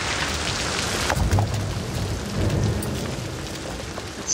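Steady rain from the video game Thief, a continuous broadband hiss of falling water with a few louder gusts and low rumbles, heard alone without talk.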